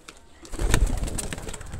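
A single pet pigeon gives a short, close, low cooing call after a brief quiet moment, with faint background noise.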